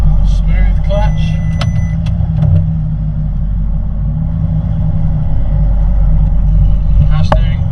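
A rebuilt Audi R8 drives slowly with a steady low engine rumble heard from inside the car, with a few light clicks and knocks and possible voices in the cabin.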